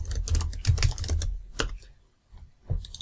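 A computer keyboard being typed on while writing a game script, bursts of quick clicking keystrokes close up, pausing briefly and resuming, with no talk.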